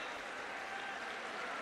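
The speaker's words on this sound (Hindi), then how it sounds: "जोरदार तालियां बजती रहें।" An audience at an appointment-letter ceremony applauding loudly, a dense, even wash of clapping that fills the whole short stretch.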